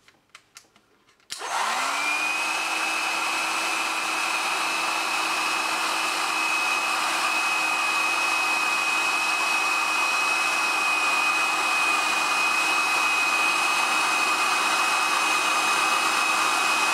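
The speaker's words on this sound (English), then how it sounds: "I'm now going to apply some heat to the heat shrink sleeving using this heat gun." A heat gun switches on with a click and a rising whoosh, then blows a loud, steady airy roar with a constant whine while shrinking heat shrink sleeving over a laptop CMOS battery; no voices.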